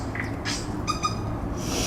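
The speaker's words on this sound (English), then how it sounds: "Those birds are funny though, the sounds." Birds calling in a New Zealand forest during a rest on a hillside climb, a couple of short tonal chirps rising over a quiet outdoor background.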